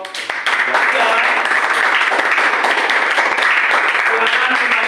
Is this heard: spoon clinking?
no